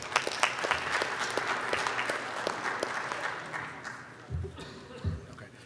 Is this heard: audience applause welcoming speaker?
yes